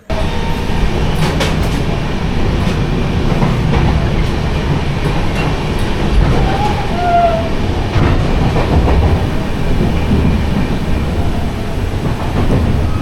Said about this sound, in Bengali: ফাইনালি আমি এখন ট্রেনে চেপে পড়লাম